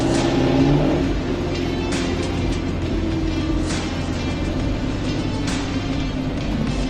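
A 1967 Ford Mustang GT500E Supersnake restomod engine hums steadily while driving about 55 to 60 mph through corners, with a brief rise in revs at the start and constant road and wind noise.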